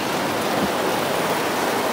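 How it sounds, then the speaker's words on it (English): Rain drums steadily on a van roof during a hail storm, a close, even, hissing patter with no breaks and no voices. "I love the sound of the rain"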